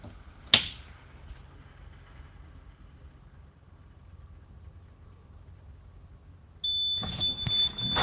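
A sharp click, then a quiet stretch before a school bus's steady high-pitched low air brake warning tone switches on and keeps sounding over a low engine idle.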